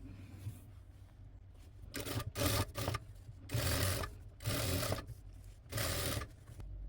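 A sewing machine stitches lace down along a nighty neckline in four short bursts of rapid mechanical whirring, separated by brief pauses, close and clear with no voices.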